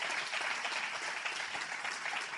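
Steady applause from a conference audience during a bilingual Spanish-English church session, a dense continuous wash of many hands clapping for about two seconds with no break.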